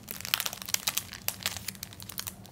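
Close, crackly crinkling of a thin plastic sheet being folded by hand, heard as a dense run of sharp rustling bursts with no pauses.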